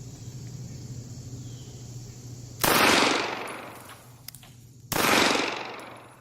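Two loud, sharp VP9 pistol shots ring out about two seconds apart, each with a long decaying echo, over a steady outdoor hum with insects in the background.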